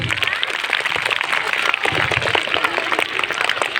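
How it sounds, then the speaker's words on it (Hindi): A crowd gives loud, dense applause for children after a school performance, a steady patter of many clapping hands mixed with a little talk. "तो एक बार जोरदार ताली बच्चों के लिए।"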